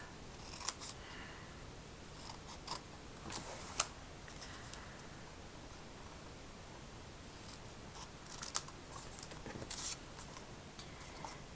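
Scissors snip through old book pages to make banner flags, with faint, sparse crisp cuts and paper rustling scattered across a quiet, close-up room.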